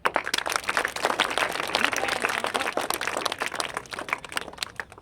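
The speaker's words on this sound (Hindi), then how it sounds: "ताली बजाओ" A school audience at an Azadi Ka Amrit Mahotsav celebration claps together, a dense, steady patter of many hands sustained for several seconds and easing slightly near the end.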